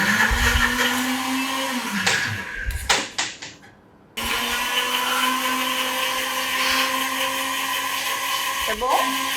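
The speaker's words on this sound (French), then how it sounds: "en attendant qu'on mixe le piment et tout" A blender whirs through chili peppers during a cooking session, its loud, steady motor whine cutting out briefly near the middle before restarting and running on, with voices faintly in the background.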